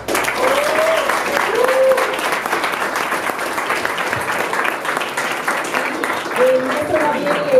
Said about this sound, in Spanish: vamos a despedir con un fuerte aplauso a The Killer Film